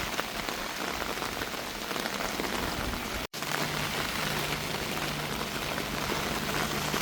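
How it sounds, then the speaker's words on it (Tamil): Steady heavy rain patters on surfaces near a bridge, a dense continuous hiss with one brief cut partway through, loud and with no voices. "மழை வராங்கள ஓடி போய் நிற்கிறேன் பாருங்க."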